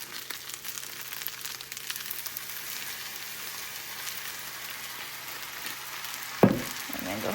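Fried rice seasoned with soy sauce, onion powder and pepper sizzles steadily in a hot pan, a soft continuous crackle with a brief louder scrape of stirring near the end.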